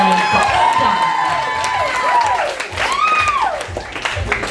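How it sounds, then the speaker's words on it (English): A comedy-club audience at a stand-up show claps and cheers, the crowd noise steady beneath prominent sliding, whistle-like tones and a few shouts. "this is where you clap for the second time"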